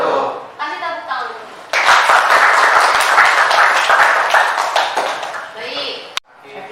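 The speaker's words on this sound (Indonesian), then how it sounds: "Kasih tepuk tangan." Classroom applause from a group of students, a dense burst of clapping lasting several seconds before fading, with children's voices chattering before and after.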